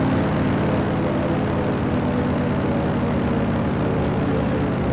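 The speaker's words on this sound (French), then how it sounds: "Un IL-2 c'est un avion d'attaque au sol" Engine drone of an IL-2 ground-attack aircraft flying a loop in the game IL-2 Sturmovik 1946, a dense, loud, unbroken propeller roar that holds steady throughout with no speech.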